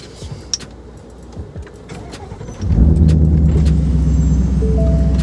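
A Ford Mustang GT, a rebuilt budget car, starts up after quiet handling noises and then settles into a loud, steady engine drone with a rising tone near the end.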